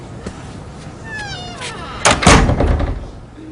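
A cat meows over a quiet room, then a door shuts with a solid thunk and a brief rattle.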